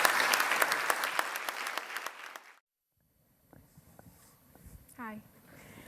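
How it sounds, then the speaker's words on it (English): An audience gives Steve and Mary a round of applause at the Leeds Poverty Truth launch, a brisk burst of clapping that stops abruptly after a couple of seconds, followed by quiet room noise. "Let's give Steve and Mary a round of applause."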